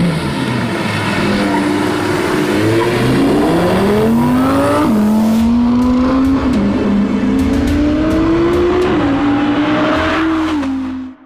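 An Audi R8 supercar engine revs and pulls hard, its pitch rising and dropping repeatedly through gear changes as the car drives, loud and close throughout before cutting off at the end.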